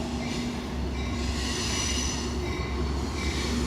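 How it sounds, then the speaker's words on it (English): An Amtrak passenger train rolls past near a Union Pacific main line, a steady loud rumble of wheels on rails with faint squealing tones, close by and continuous without any voices. "there's a train about to come by"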